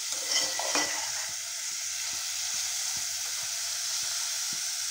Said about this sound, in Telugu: ఈ మెంతులు అనేవి వేగిన తర్వాత ఉల్లిపాయలు యాడ్ చేసుకుందాము